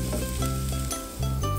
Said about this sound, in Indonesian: kita tumis dulu bawang merah dan bawang putih hingga wangi